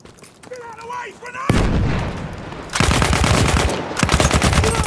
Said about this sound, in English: Okay, I'm being shot at, but I do not know where from.